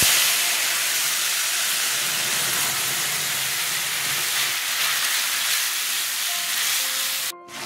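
Whole cumin, ginger, chili and tomato paste sizzle loudly in a hot pan as a jackfruit seed vegetable curry is cooked, a dense continuous hiss that cuts off abruptly at the very end.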